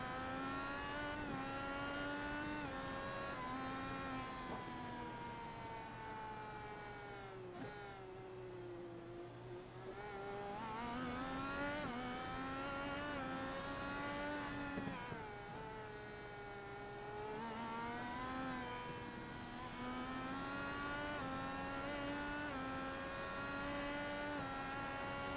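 Race car engines in an IndyCar racing video game at the Detroit Grand Prix whine and rise and fall in pitch as cars accelerate and slow, one car prominent and steady throughout.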